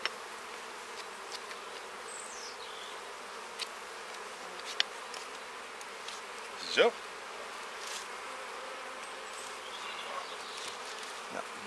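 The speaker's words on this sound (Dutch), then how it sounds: "Even de bijen eraf te halen." Honeybees buzz steadily around an open Dadant beehive while being brushed off by hand, a dense continuous hum with occasional louder passes close by, and someone briefly speaks.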